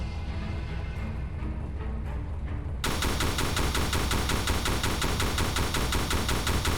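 Video game gunfire, continuous rapid automatic shots that start faintly and jump to a dense, loud stream of fire partway through.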